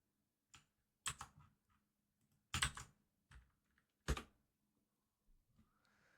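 A computer keyboard is tapped at close range in a few separate, sharp clusters of keystrokes with quiet gaps between them, and nobody speaks.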